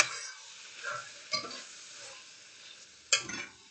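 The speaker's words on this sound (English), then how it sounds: "Mix that up." Sloppy joe mixture for a Bisquick bake being stirred in a pan, with a soft, steady sizzle and two sharp utensil knocks against the pan, close and fairly quiet.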